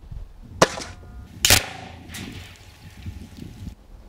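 Two sharp, close shots from an Air Arms S400 MPR FT single-shot field target air rifle, spaced about a second apart, each a crisp crack followed by a short metallic ring and faint rustling.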